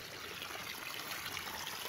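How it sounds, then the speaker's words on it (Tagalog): Water runs in a small stream on a goat farm after rain, a faint continuous trickle and babble with no voices, soft and steady throughout. "tubig na umaagos."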